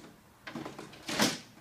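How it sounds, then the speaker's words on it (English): Plastic garage door on a Barbie Dream House toy being handled, giving a few soft clattering knocks and a brief sliding rattle up close, with a louder scrape near the end. "Don't break the garage door."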